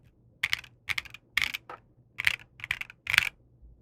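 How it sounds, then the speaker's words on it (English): Typing on a Vertex Arc 60 small mechanical keyboard, seven crisp separate keystroke clusters in an uneven rhythm, close and clear against near silence. "The sound of this keyboard blew my mind"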